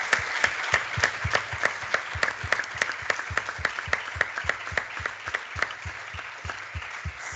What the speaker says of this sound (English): You can clap your hands for Nicolò and for everybody.